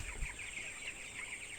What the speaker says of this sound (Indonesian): Ini ayam broiler